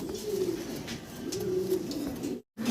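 Pigeons cooing steadily at close range in a loft of thick-beaked breeding pigeons, a continuous low throaty warble that swells and dips, ending with a brief cut of silence.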